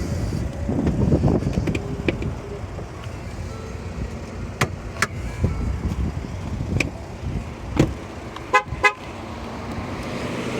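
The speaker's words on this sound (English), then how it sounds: "the key just left the car, but I'm still running. So that's why it keeps honking." A 2015 Lincoln Navigator sounds short horn toots at irregular intervals while it keeps running with the key carried away, loud against steady outdoor background noise, with a cluster of quick honks near the end.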